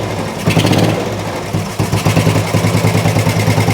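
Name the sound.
old Royal Enfield 350 motorcycle engine running roughly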